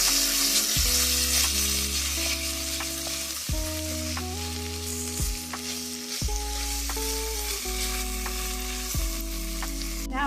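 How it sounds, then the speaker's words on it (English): Tomato paste sizzles steadily while being stirred into a pot for steak chili, a continuous close frying hiss that runs the whole time, with background music and no talking. "we're going to add in our tomato paste. I'm going to go ahead and mix that until it's well combined."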